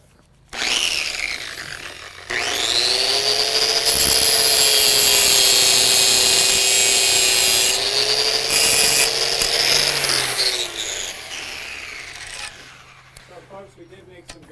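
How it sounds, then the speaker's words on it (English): A power grinder grinds off a rivet with a loud, high, whining screech that holds steady for several seconds, then dies away as the tool spins down, close to the listener. "I'm just going to grind it off again and rivet it over"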